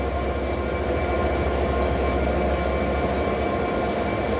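The Belmond British Pullman train pulls out of London Victoria station, a steady loud rumble and rolling roar of carriages with a faint high whine running through it, continuous and close, with no talking.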